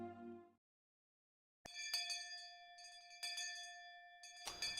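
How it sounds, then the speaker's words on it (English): A distant school bell in the Higurashi video game rings out in a few bright, sustained metallic strikes with a long ringing tone, following a brief earlier sound and a pause of silence. "Just then we heard a bell far away, marking the end of our lunch break."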